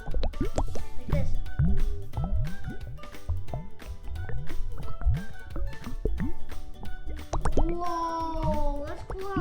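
Bubbles rise through a homemade lava lamp, popping and plopping in quick repeated gurgles and bloops, loud and close, with someone talking over them.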